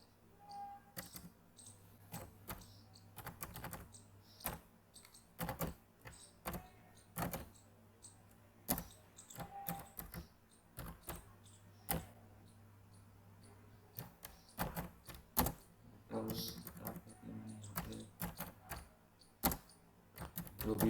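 Typing on a computer keyboard while entering interview dates into an MS Word mail merge document, a long run of sharp, irregular key clicks with short pauses between bursts, close by and quiet, with no one speaking.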